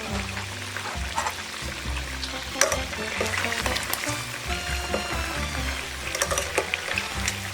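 Chicken wings for garlic parmesan wings fry in a pan, crisping with a steady sizzle and scattered crackles and pops that stay fairly loud and close throughout.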